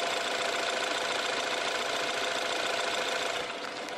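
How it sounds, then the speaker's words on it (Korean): A 2014 BMW 528i engine idles with the hood open, a dense, steady mechanical hum and clatter heard up close, continuous and loud with no talking. "바로 엔진 소리 한번 들려드릴게요"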